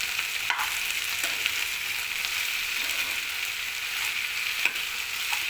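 Ivy gourd curry with green chilies and coconut powder, cooked without water, sizzles and fries in a pan while it is stirred, a steady close crackle with occasional scraping knocks of the spoon.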